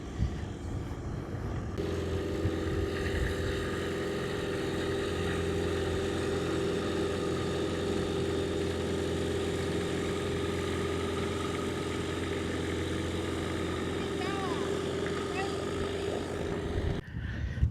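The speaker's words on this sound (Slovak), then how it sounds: "Jeden z dynamikov ďalších je už tiež po spustení a bude rolovať na dráhu." A Dynamic light aircraft engine idles steadily before taxiing to the runway at a navigation competition, a constant droning propeller hum holding from start to nearly the end, with a voice talking faintly underneath.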